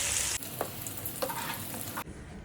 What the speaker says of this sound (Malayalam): പാലും അടയൊക്കെ കൂടി ചേർത്തിട്ട് ഇളക്കി ഇളക്കിക്കൊണ്ടിരിക്കുകയാണ്